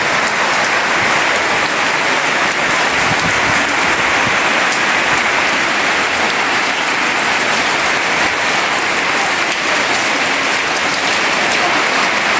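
Heavy storm rain pours beside a pond, a dense, loud, unbroken hiss of drops drumming on surfaces that holds steady throughout with no voices.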